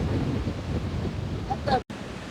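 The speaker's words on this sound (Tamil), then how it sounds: "பெரிய பெரிய அலைகள் கரைகளை நோக்கி அப்படியே பாஞ்சு வாஞ்சு வருது" Large sea waves surge onto the shore at Keerimalai, a continuous loud wash of surf and wind buffeting, briefly cut near the end.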